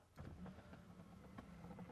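An electric seat motor in a Bentley whirs as it moves the seat, giving a quiet, steady mechanical hum with faint clicking pulses over two seconds and no voices.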